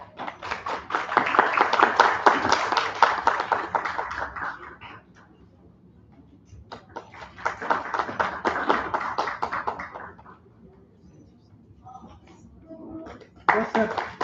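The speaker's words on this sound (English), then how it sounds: "Clap." Bursts of audience clapping at a government MSME intellectual property event, three separate rounds of brisk, crisp hand claps with quiet gaps between them, the last starting abruptly near the end.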